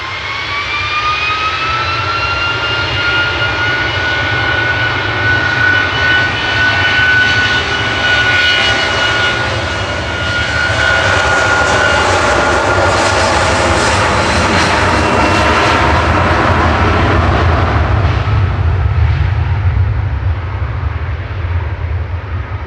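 An airliner's jet engines roar loudly during departure from Manchester Airport on a flight to Palma. A sustained, powerful rumble with a descending turbine whine builds to a heavy swell, then slowly fades, with no talking.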